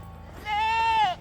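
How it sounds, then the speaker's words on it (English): A Nubian goat, a blue roan buck on a small farm, lets out one long, loud, wavering bleat at close range, held for most of a second before cutting off. "I've had enough of this goat."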